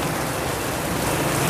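Heavy rain pours onto a flooded street, a dense, loud, unbroken hiss of water with no voices.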